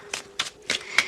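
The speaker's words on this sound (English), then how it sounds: "while I'm shuffling" Tarot cards being shuffled in quick bursts, four crisp riffling rasps spaced about a third of a second apart, close and fairly loud with no voice.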